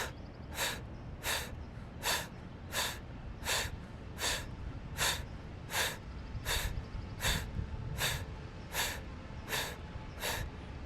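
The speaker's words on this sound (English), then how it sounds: "breath of fire." Rapid yogic breath of fire: sharp, forceful nasal exhalations repeat in an even rhythm of about one and a half per second, close and clear, over a low steady background hum.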